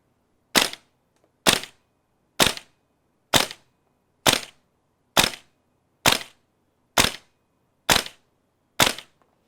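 An airsoft gun fitted with a magnetic locking NPAS composite loading nozzle fires ten sharp, evenly spaced shots through a chronograph, each a crisp, loud pop at a steady rhythm about one second apart with nothing in between.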